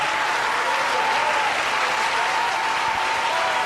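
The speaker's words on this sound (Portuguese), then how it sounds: "Dá um aplauso forte ao Senhor" A church congregation applauds loudly during a worship service, with steady, dense clapping sustained throughout and no pause.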